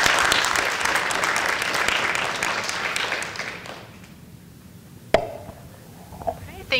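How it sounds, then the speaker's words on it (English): Applause at a board of education meeting, dense clapping for about four seconds that fades away, followed by a quieter stretch with a sharp knock and small sounds. "So, round of applause for Alexa."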